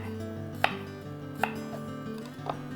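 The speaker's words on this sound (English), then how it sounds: "We'll chop up a clove of garlic, really thin slices." Thin slices cut from a garlic clove: three crisp knife chops on a cutting board, spaced about a second apart, close and distinct over soft steady background music.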